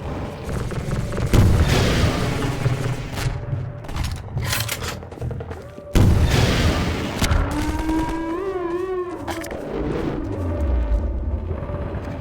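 Rocket launcher blasts and heavy explosions in Half-Life 2 played in VR, two loud booming impacts with rumbling debris and continuous chaotic gunfire and effects throughout.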